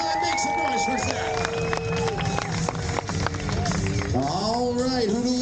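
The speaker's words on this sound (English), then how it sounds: "Make some noise for Zach" Crowd cheering and shouting at the EX Games, a skateboarding event at the CNE, a dense, continuous roar of many voices with whoops and an announcer-style voice over it throughout.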